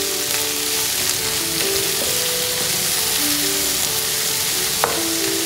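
Potato bhaji with carrot frying in ghee, a dense continuous sizzle and bubbling with a faint stirring tap near the end.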